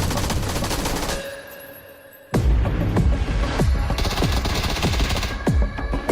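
Rapid gunfire in PUBG during a Global Series final, loud bursts of automatic fire with sharp repeated shots, pausing briefly then resuming in dense volleys.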